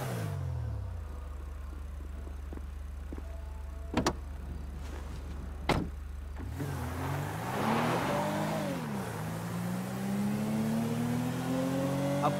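A car drives in the video game GTA 5 on the way to Paleto Bay. A steady engine drone gives way to a few sharp clicks, then revving gear climbs and shifts as it picks up speed, with no voices.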